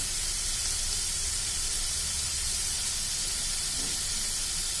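Sliced onions sauté in a pan with a pinch of salt, giving off a loud, constant sizzling hiss with no breaks throughout.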